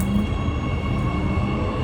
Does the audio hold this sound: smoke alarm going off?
no